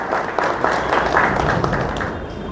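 An audience at a political meeting claps all together, a short, loud burst that fades a little at the end.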